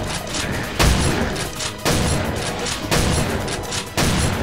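A meaty shotgun in the Doom: Stronghold mod fires four heavy, booming blasts at roughly one-second intervals. Each report is close and loud, with a rumbling tail that runs into the next shot.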